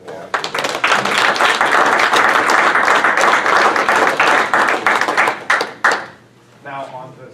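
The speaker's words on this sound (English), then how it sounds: "he deserves another round of applause" Applause breaks out at a city council meeting in Sunbury, Pennsylvania, a dense burst of many hands clapping for about six seconds before tapering off, with a voice speaking briefly at the end.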